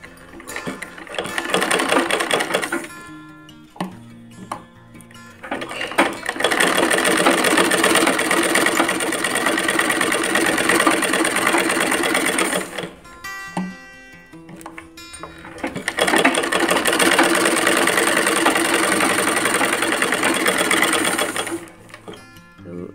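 An old grandfather's sewing machine stitches blouse fabric in long, loud, steady whirring runs separated by brief pauses, the motor rattling close by with a rhythmic mechanical chatter.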